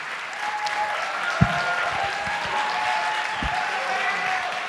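An audience at an entrepreneurship pitch competition applauds steadily in a hall, sustained clapping with a couple of louder thumps.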